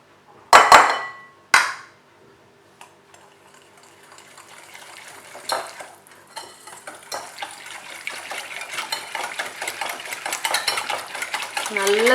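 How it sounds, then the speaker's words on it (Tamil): Sugar being beaten into wet cake batter in a bowl, a few sharp clatters of a utensil against the bowl first, then steady scraping and whisking that grows busier and louder. "நல்லா பீட் பண்ணிக்கணும்."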